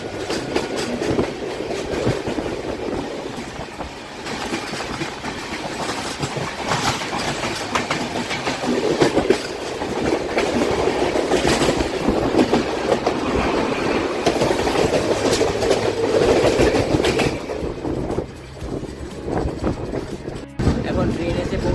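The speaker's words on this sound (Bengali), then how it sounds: "চলছে এই করমণ্ডল এক্সপ্রেস।" Coromandel Express (12841) running late toward Bhubaneswar, heard as continuous rail rumble and wheel clatter throughout, with a brief quieter dip near the end; faint talk may sit under the train noise.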